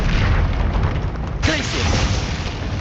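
A Confringo blasting spell explodes in Hogwarts Legacy, a muffled boom bursting through dense continuous game noise and music, with no clear separate talk.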